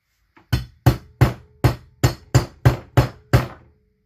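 Nine sharp hammer blows strike metal, driving a part into place during a McCulloch Model 73 rebuild, in a steady, evenly spaced rhythm, each ringing briefly before the next, close and loud with no talking.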